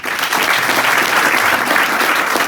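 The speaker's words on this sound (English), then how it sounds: "Can we give a round of applause?" A school tie ceremony audience breaks into a round of applause, dense loud clapping from many hands sustained evenly across the whole stretch without speech.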